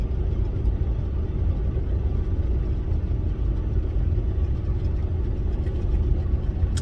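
A big rig's engine drones at highway speed as the truck slows, a steady low rumble mixed with road noise that holds an even level throughout.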